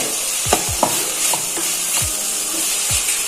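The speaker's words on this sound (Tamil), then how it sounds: "நம்ம வெங்காயம் நல்லா ப்ரௌன் கலர் வரையும் நம்ம வதக்கியிருக்கோம்" Onions fry in coconut oil in a pan with a steady, close sizzle, and a spoon or spatula scrapes and stirs through it a few times.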